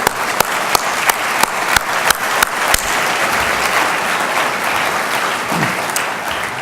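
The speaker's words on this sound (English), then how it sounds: "So how about a round of applause for all of them?" A dinner audience at the 2019 IRI Freedom Dinner applauds loudly, opening with sharp, distinct claps that blend into a dense, sustained ovation filling the hall.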